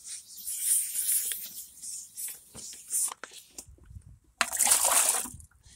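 Wet sanding of a car headlight lens, with sandpaper rasping in bursts and water splashing and sloshing, close up, alternating with quieter gaps while someone speaks softly in Spanish.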